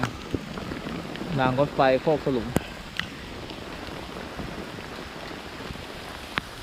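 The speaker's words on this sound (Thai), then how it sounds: "ฝนไม่หยุดเลยครับ" Steady rain falls at a campsite beside railway tracks below a dam, a broad constant wash throughout with a few sharp knocks, while someone talks briefly near the start.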